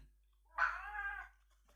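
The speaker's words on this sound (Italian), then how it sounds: "Direi che la gatta è d'accordo." A cat gives one drawn-out meow, fairly soft and close, alone in a quiet room.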